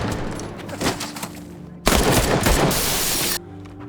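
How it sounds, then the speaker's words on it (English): Rapid gunfire erupts as armed attackers storm a supermarket, a dense burst of loud, close shots and crashes after a few scattered pops, ending abruptly. "a group of armed people stormed the supermarket and opened fire"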